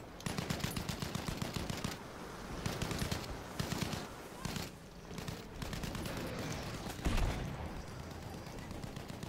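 Rapid bursts of automatic gunfire in Battlefield V, rattling in repeated volleys with brief pauses and one heavier crack near the end, moderately distant and continuous.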